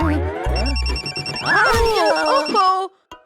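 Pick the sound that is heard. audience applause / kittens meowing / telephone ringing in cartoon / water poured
telephone ringing in cartoon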